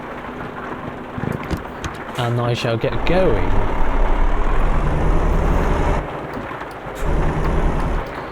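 Rain and rolling thunder in Euro Truck Simulator 2 while driving a Volvo FH16 hauling a mobile crane, a dense rain wash with deep rumbling swells and truck engine drone, briefly under a voice.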